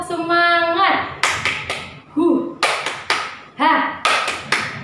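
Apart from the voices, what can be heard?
children clapping a rhythmic cheer clap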